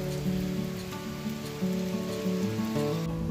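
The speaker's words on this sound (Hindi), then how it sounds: "अब हम छत से हिमाचल की बरसात का आनंद लेंगे।" Monsoon rain falls steadily on a village house rooftop in Rajiana Khas, Kangra, Himachal Pradesh, a continuous hiss of drops heard under faint sustained musical tones, with no talk.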